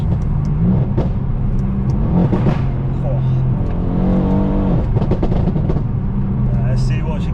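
A tuned 630 bhp Mercedes C63 AMG drives along, its engine a loud, continuous low rumble that rises and swells at times, with someone talking over it from inside the car.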